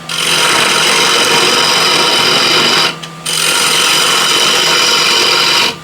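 A scraper cuts inside a wooden bowl spinning on a lathe, making a loud, close, rough hissing scrape with a brief pause midway before resuming.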